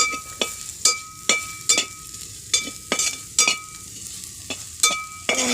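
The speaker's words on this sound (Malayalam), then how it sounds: "ആവശ്യത്തിന് മുളക് പൊടിയും കൂടെ ചേർത്ത് നമുക്കൊന്നുകൂടി ഒന്ന് ഇളക്കി കൊടുക്കാം" Crushed dried fish and chili powder are stirred in a pan: a regular run of sharp metallic scrapes and clinks about twice a second, each with a brief sizzle, and no talking.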